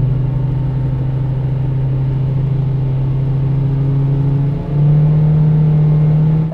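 Acura RSX with a naturally aspirated K24 engine, Hondata tuning setup, held at a steady high-rpm drone with a strong harmonic whine that steps up briefly near the end, loud and close with no talk.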